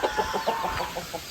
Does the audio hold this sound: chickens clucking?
yes